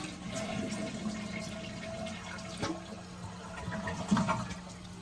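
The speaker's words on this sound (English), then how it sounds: "go ahead and test it out by flushing it" A toilet flushes after its flush valve seal has been replaced: a fairly quiet rush of draining water that settles into the hiss of the tank refilling.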